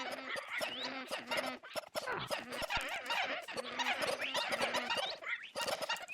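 Minecraft parrots mimic a witch's cackling giggle in a dense, rapid flurry of squeaky chattering calls that repeat nearly without pause.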